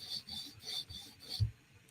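Knife sharpening on a 400 grit stone, a blade rasping across the abrasive in quick, repeated strokes, about five passes, each one a short scratchy sweep, heard close up with no talk.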